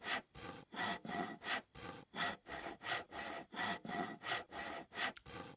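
A hand saw cuts through wood in about a dozen steady, rhythmic push-and-pull strokes, each a close, raspy scrape with no voices.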